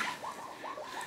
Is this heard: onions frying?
no